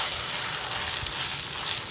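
Hong Kong style shrimp fried rice with green onions sizzles loudly in a hot pan, a dense continuous crackle of frying with soft scraping as it is stirred.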